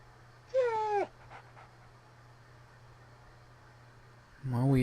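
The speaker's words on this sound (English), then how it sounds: "we hear that similar whimpering we heard from the prologue" A dog whimpers in the survival horror game Rule of Rose: a high, wavering whine near the start, then quiet background hum, then a second whimper beginning at the very end.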